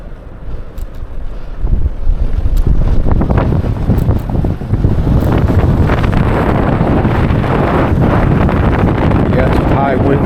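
Strong gusty spring wind buffets the microphone during an outdoor ride near a river, a loud continuous rumble that builds after the first couple of seconds and stays heavy.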